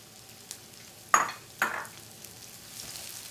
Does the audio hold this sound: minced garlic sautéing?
yes